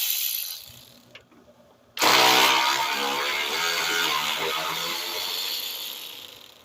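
A ratchet works a radiator bolt loose on a 2003-2005 Lincoln Aviator with the 4.6L V8, starting abruptly with a loud burst of fast clicking that runs steadily for several seconds, close up.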